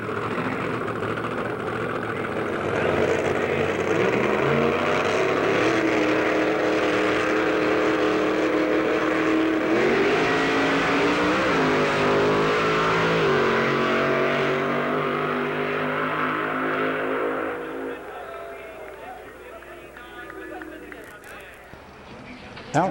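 Loud, roaring nitromethane funny car engines thunder and rev for a long stretch at a 1970 drag strip, with the roar shifting in pitch before easing somewhat toward the end.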